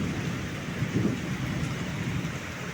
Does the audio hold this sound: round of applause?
no